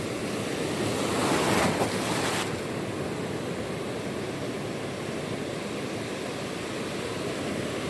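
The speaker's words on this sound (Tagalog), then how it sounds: "Medyo maalon kasi" Rough surf rolling against a rocky shore during light-tackle fishing, a steady roar of breaking waves with a louder crash early on and wind buffeting the microphone throughout.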